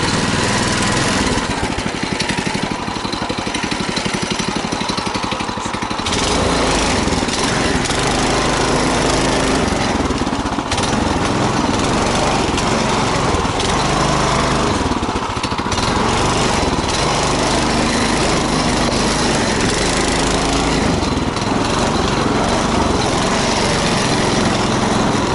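A tricycle engine driving off-road toward an abandoned village, a loud continuous buzzing motor drone that shifts in pitch as it labours over rough, sandy ground.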